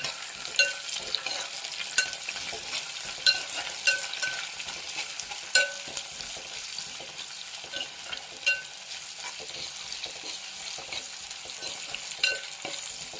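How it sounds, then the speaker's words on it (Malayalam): Asafoetida, green chilies and curry leaves fry in a pan while being stirred, a steady sizzle broken by regular clicks and scrapes of the spoon against the pan, close and moderately quiet, with no voices. "ഇത് നമുക്കൊന്ന് മൂത്ത് വരുന്നവരെ ഇളക്കി കൊടുക്കാം."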